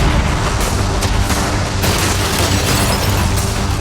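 Cannons fire at a yacht during an outdoor challenge event, producing a dense, continuous rumble of booms and blasts that stays loud throughout.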